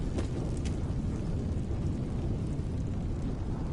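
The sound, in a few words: explosion in the video game Tales of Arise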